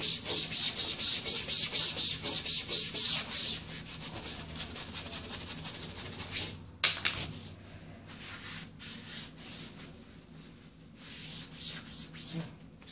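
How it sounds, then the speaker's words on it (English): A brush scrubs blue protective film off a white wall motorcycle tire in quick rhythmic back-and-forth strokes, close and fairly loud at first, then softer, steadier rubbing with a brief pause midway. "Scrub it all down."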